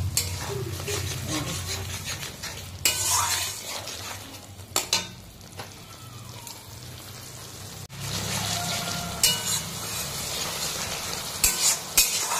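Turmeric, chili powder, salt and a green chili lightly frying in a pan for a mustard curry, a steady close sizzle with repeated scraping stir strokes and brief louder bursts throughout.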